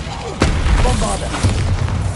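The Bombarda blasting spell in the video game Hogwarts Legacy explodes with a single loud, deep boom and a rumbling tail that fills the short moment, heavy and close.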